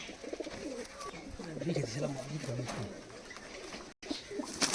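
Teddy pigeons cooing close by in a loft in low, rolling, repeated calls, with a person talking softly underneath.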